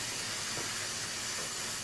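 Steam hisses from a modified pot still during distillation, a steady broad rush of noise with no breaks, close and constant.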